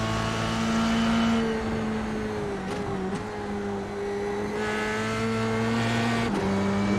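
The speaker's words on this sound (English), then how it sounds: "Let's have a listen to those engine revs," A simulated race car engine in iRacing at Phillip Island Circuit drones steadily from on board, its pitch dipping and rising as the driver eases off and back on the throttle.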